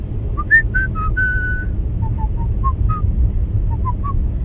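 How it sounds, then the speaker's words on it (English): Someone whistles a short, wandering tune in clear, bright notes over a low rumbling background, with pauses between phrases. "Just me whistling."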